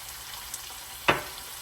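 A heaping tablespoon of minced garlic drops into a frying pan, giving a soft sizzle under a steady background hiss and one brief, sharp burst as it lands. No one speaks.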